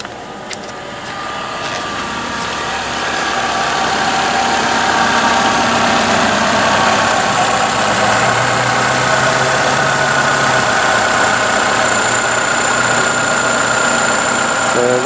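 A 2011 Nissan Altima 2.5 with 76,000 miles starts up and settles into a steady, loud idle, with a continuous hum and even engine drone up close.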